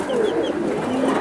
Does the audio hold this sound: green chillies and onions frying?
no